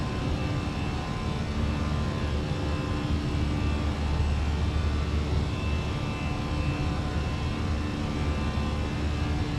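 Airbus A320 jet climbing out after takeoff in Microsoft Flight Simulator 2024, Latam Airlines livery, a steady, loud, continuous engine roar and rushing airflow held evenly throughout with no voices.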